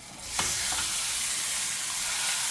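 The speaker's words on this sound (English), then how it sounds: "now that my pan is nice and hot, I'm gonna take my picana steak. I'm gonna put the fat side down" A picanha steak laid fat side down in a hot pan, a sudden loud sizzle that settles into a steady, even hiss with no talking.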